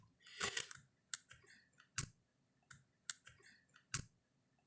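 Faint keys pressed on an old Z80 computer's keypad, with one quick cluster of clicks followed by single sharp clicks roughly once a second in a quiet room.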